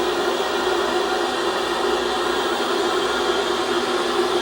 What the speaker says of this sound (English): It's pure white noise with no radio emissions.